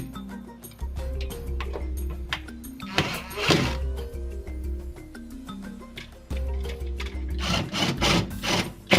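Mounting hardware being tightened down on a wall during a SignWave display installation with designer frames, heard as a series of close, uneven wooden knocks, rubs and ratcheting scrapes with short pauses between bursts.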